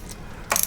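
A ratchet clicks briefly and close, a quick burst of pawl ticks as a shifter bolt is loosened on a Vulcan 750 motorcycle.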